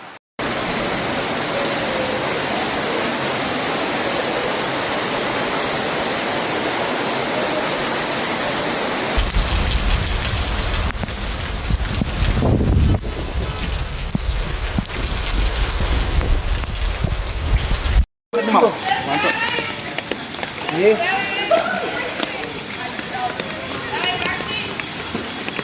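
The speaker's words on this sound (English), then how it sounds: "torrential rain poured down on the city, turning the Promenade into a veritable river" Torrential storm rain pouring down over a seaside city as floodwater runs through the streets, a loud continuous roaring wash that shifts between scenes, with voices talking over part of it.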